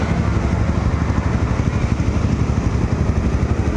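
A motorcycle engine with a newly replaced carburetor runs close by, loud and rough, its uneven, throbbing low pulses continuing without a break and no voices over it.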